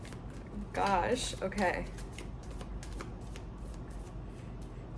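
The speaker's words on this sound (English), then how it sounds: "So many cards are falling out." A deck of tarot-style cards is shuffled by hand with quick papery riffles, and a few cards slip loose and flutter down, close and clear, while someone speaks briefly over it.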